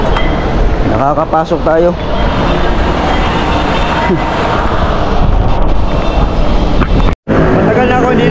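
A Manila MRT train fills the space with loud, continuous rumbling and rushing noise, and a person speaks over it.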